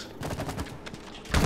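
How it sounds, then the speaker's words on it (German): Something blown up in the co-op video game It Takes Two, a loud burst near the end after a stretch of rapid crackling pops and rumble. "Dann sprengen wir mal den Shit noch in die Luft."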